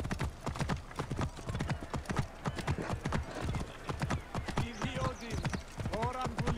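Horse hooves clip-clop at a steady trotting rhythm in Assassin's Creed Origins, close and continuous, with a whinny near the end and a faint voice under the game sound.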